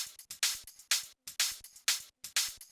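Hi-hats and shaker percussion in an electronic track play a crisp, evenly spaced pattern of short bright hits and longer swishes, repeating in a tight loop, fairly quiet and with no voices.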